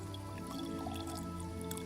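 Liquid pours and drips in Kingdom Come: Deliverance II as oil is added during potion brewing, a wet trickling and squishing that sits under steady game music.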